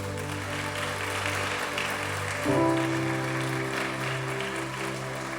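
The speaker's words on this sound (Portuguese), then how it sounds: "Você pode dar um forte aplauso a Jesus?" A church congregation applauds steadily, a dense rain-like clatter of many hands over a sustained musical tone that shifts midway.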